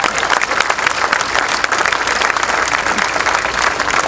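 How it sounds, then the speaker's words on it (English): Steady, dense applause from a crowd for Cincinnati City Council members at a streetcar event, continuous and fairly loud throughout without a break. "Give them a round of applause."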